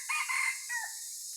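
A wild jungle fowl rooster crows once, a short, clear call heard from a distance in quiet surroundings, with no other sounds around it.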